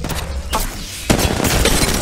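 Gunfire in the mobile shooter Apex Legends Mobile: loud, close bursts of shots with a sharp crack near the start and a heavier volley partway through, with no voices.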